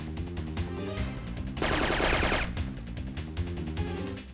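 Gunfire in the Syphon Filter 2 video game sounds as dense, rapid bursts of shots layered over steady game music, with a louder, sustained stretch of firing in the middle.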